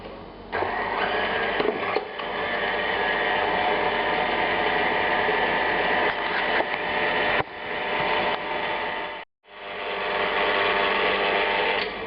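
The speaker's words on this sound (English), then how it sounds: "Now we'll move it to the mixer." Steady whirring motor of a mixer kneading pizza dough made with flour, salt and olive oil, running loud and continuous with one brief stop near the end.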